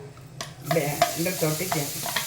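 Ginger, curry leaves and green chillies tempering in hot oil for a ragi and wheat uttapam crackle and sizzle in a pan, with close, uneven stirring clicks and scrapes and no talking.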